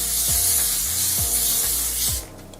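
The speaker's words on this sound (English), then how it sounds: "I'm gonna take the spray and spray this area." Hair spray hisses from a can onto the lace hairline of a wig, a loud, close, continuous spray that carries on for a couple of seconds with slight pulsing, then stops abruptly.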